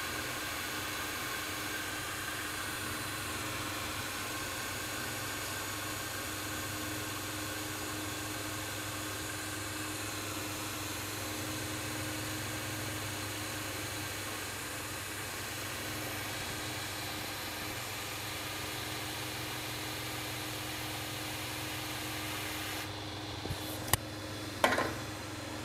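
A Creality Falcon 2 22W laser engraver runs steadily on quarter-inch material, giving a constant mechanical hum and fan-like whir with no break, then a few sharp clicks near the end.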